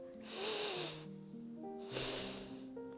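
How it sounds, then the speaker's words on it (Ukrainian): Breathing in and out through the nose during a children's breathing exercise, two strong nasal breaths a little over a second apart, with a soft sung or hummed melody running underneath. "Дихаємо носиком вдих, видих."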